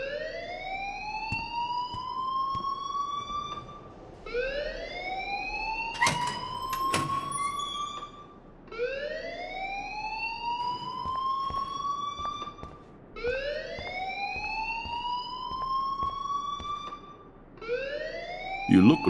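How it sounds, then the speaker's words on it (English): A fire alarm in the Life Is Strange game wails in repeated rising electronic sweeps, about five cycles, loud and insistent, with brief sharp clicks between them. "please turn off that alarm since that's your job"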